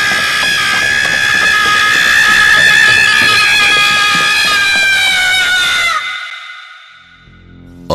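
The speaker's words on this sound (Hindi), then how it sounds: "कोई उनके ठीक पीछे से चीखता हुआ" A horror-story sound effect of a person screaming while running past: a loud, sustained, wavering scream rings out for about six seconds, then cuts off abruptly, leaving a fading faint tail.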